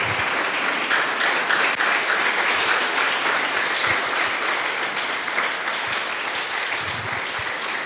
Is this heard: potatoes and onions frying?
no